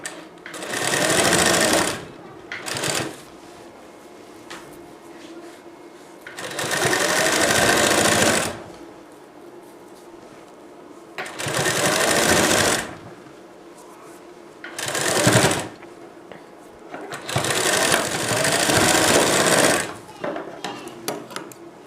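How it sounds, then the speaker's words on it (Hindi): A sewing machine stitches the corner of a blouse in several short bursts of fast, close mechanical whirring and needle chatter, separated by quiet pauses where someone talks softly. "आपको यहाँ पर इसके कॉर्नर पर भी सिलाई लगानी है, जिससे हमारा कपड़ा है वो एकदम बराबर चिपक जाए"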